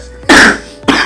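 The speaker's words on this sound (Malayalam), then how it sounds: "പാവം ചുമച്ചു" A bride-to-be coughs twice up close, two loud harsh bursts, the first longer and the second shorter, with no talk around them.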